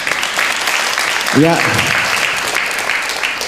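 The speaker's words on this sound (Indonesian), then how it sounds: "Boleh tepuk tangan" An audience claps at an Islamic sermon in Indonesia, a broad wash of applause throughout with a short spoken word from a man near the middle.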